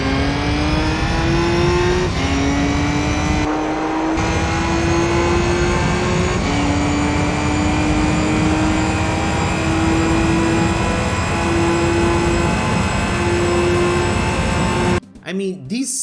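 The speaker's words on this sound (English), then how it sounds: "the engine sounds from the race cars in the game sound pretty goofy" A buzzy, thin-sounding race car engine from the video game Gran Turismo 3 whines continuously, its pitch climbing repeatedly through gear shifts, loud and close, cutting off abruptly near the end.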